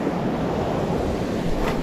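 Sea waves wash steadily at a shoreline fishing spot during heavy spinning, a dense continuous hiss and rumble of surf with wind noise across the microphone.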